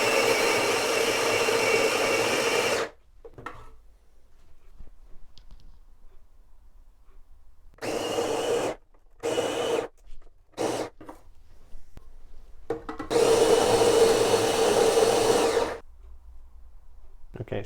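An OXO On Barista Brain conical burr coffee grinder runs in several bursts of grinding beans, a loud buzzing whir that starts and stops, with a long final run and quiet gaps between, close up.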